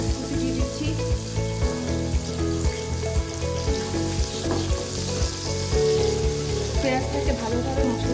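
Chopped onion frying with spices in a pan for Bengali beef rezala, a steady close sizzle with stirring scrapes running throughout, with no talking.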